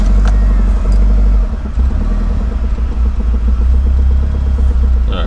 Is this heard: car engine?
yes